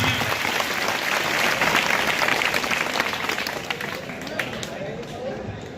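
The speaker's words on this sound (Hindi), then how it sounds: "बच्चों तालियां बजाइए, तालियां।" Schoolchildren clap at a Gandhi Jayanti gathering at a rural intermediate college, a dense sustained wash of applause mixed with crowd babble and voices, loud at first and tapering slightly toward the end.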